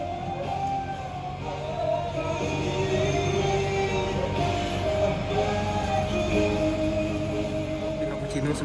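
Inside the Doho Panataran passenger train in Java, a steady low rumble of the moving carriage with faint tonal squeals and whines, with murmuring voices mixed in throughout.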